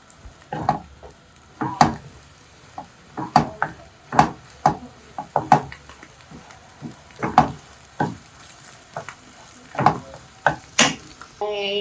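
Eggs are stirred and scrambled in a hot oiled pan, with a steady rhythm of scraping utensil strokes about twice a second over a faint sizzle, close up and without talking.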